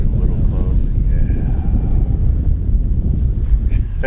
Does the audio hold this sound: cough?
no